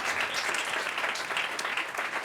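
A church congregation claps in praise during a sermon, a dense, loud burst of applause lasting about two seconds with no clear voices.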